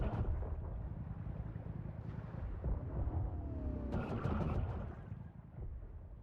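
Side torpedoes exploding in the vehicle-building game Trailmakers, a string of muffled booms over a low rumble with a few sharper cracking bursts near the middle, no speech.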